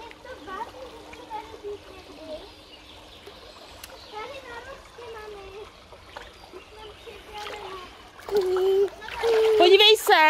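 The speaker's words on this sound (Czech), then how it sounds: "Podívej se, ta Tereza už vlezla do té vody." A child splashes in water outdoors, a few soft splashes at first, then louder, busier splashing near the end, with children's voices and talking throughout.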